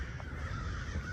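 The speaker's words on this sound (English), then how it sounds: "Listen to those crows cawing." Crows caw throughout in a busy outdoor spot, their calls blending into steady background crowd and traffic noise over a short stretch.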